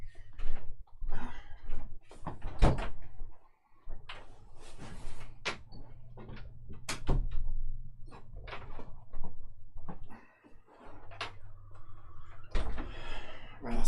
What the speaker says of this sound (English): let me just go and close the door